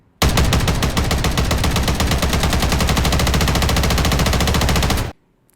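An SMG fitted with the Jak BFB aftermarket part fires in a video game firing range, a single loud uninterrupted automatic burst of about five seconds that cuts off abruptly.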